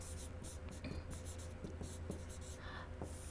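Marker or chalk strokes on a board while a quadratic equation is graphed, a quiet series of short scratchy taps and drags over a steady low hum, with soft faint voice traces.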